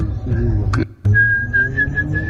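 A short burst of carefree whistling: a wavering tone, a brief break, then a steady sustained note held close over low background rumble.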